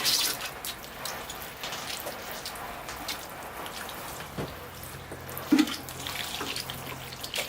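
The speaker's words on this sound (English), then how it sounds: "Okay, I'll just give it a watering to kind of level the sand in place now." Water poured from a can onto sand in a bonsai planting of a hemlock on a nursery log, a soft, steady, close patter and trickle that runs evenly throughout with a few small splashes.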